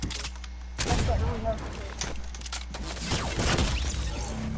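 Fortnite gunfire rings out in sharp repeated bursts and single shots over a busy game soundscape, loud and close, with a voice talking during the firing.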